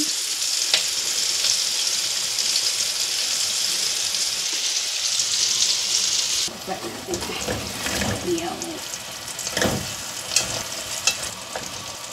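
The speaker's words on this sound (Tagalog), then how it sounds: "ngayon nagsisimula ako mag-prito ng pork" Pork frying in hot oil sizzles and crackles steadily in a pan, a loud continuous hiss that turns into sharper pops and stirring noises in the second half.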